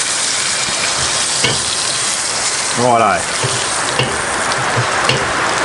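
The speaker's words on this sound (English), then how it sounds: "as the rain comes down, lucky I came in the shed" Steady rain drums on a backyard shed roof as a broad, constant hiss, with a brief louder clatter midway and a short spoken word near the start.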